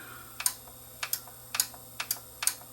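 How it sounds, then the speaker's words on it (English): Inside a Yamaha RX-V1700 AV receiver, a relay clicks sharply over and over at a fairly regular pace, each click often followed closely by a second, close and crisp over a faint electrical hum. "Well, now the relay's clicking."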